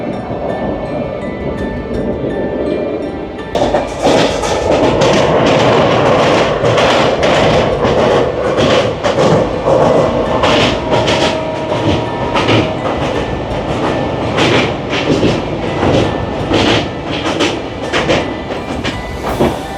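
Puri–Sealdah Duronto Express running on rails near Balighat on the Dankuni–Sealdah line, a loud, steady rolling roar with repeated clickety-clack wheel beats over rail joints, swelling after a quieter opening and continuing throughout.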